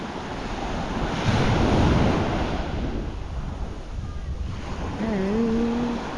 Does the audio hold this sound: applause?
no